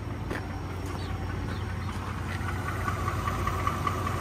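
A 2020 Ford F-150 with a 5.0-liter V8, ten-speed and about 150,000 miles idles with a steady low rumble and a light, diesel-like ticking, recorded close up over outdoor background noise.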